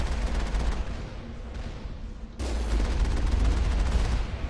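Turrets blasting away in the Mass Effect video game, a dense continuous barrage of gunfire with booming low end that grows louder partway through and keeps going without pause.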